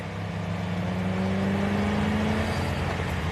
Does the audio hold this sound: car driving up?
yes